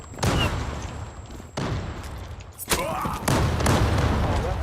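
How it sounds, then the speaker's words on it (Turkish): Explosive blasts from a bomb detonated in a Zula online shooter clan match: a few sharp booming bursts in quick succession with rumbling decays between, loud and close. "Ben patlattım."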